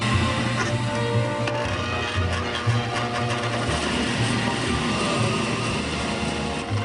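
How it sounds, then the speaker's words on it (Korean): Workshop machine shaving both faces of bamboo fine-tooth comb teeth at a 45-degree angle, a loud continuous droning whir with a steady rhythmic chatter filling the room, no voices. "공방을 가득 메운 기계 소리가 어쩐지 낯설기까지 하다."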